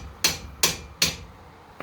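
A hammer strikes a wedge driven in to pop the ball joint on a 1987 Nissan Sentra lower control arm: three sharp metallic blows at an even pace, then a lighter fourth tap, close and loud in a quiet garage.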